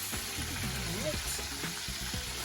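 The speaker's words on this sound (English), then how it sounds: "I'm gonna let this go fry on it" Fried chicken sizzles in hot oil with a steady, dense crackle, joined by a few soft clinks and low thumps nearby and no talking.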